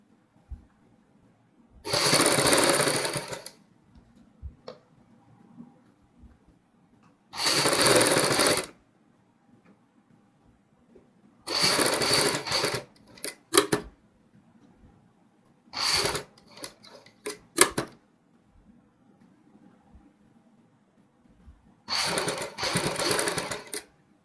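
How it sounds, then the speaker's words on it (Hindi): An electric sewing machine stitches piping around a kurti neckline in five separate loud, whirring bursts of a few seconds each, with quiet handling and faint clicks between runs. "ये पाइपिंग वाली सिलाई दोस्तों हमने कंप्लीट कर ली है"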